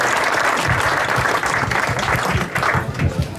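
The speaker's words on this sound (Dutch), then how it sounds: "Ik vraag u een hartelijk applaus voor Marcel van Dijken." Warm applause from an outdoor crowd greeting the club chairman at the opening of a tennis park, dense steady clapping sustained for several seconds without a break.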